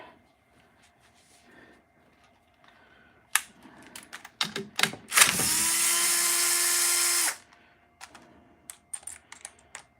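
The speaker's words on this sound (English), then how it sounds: "you can undo these bolts with just a 12-volt Bosch drill" A 12-volt Bosch drill undoing bolts on a vintage washing machine transmission gives one loud, steady whir lasting about two seconds, framed by clicks, taps and handling noises of loose parts.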